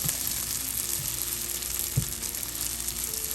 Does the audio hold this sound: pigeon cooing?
no